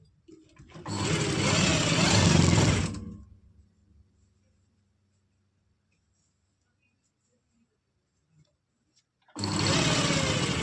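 A sewing machine stitches an umbrella frock with piping, running in two loud bursts: about two seconds of steady whirring, a long silent pause, then the motor starts again near the end.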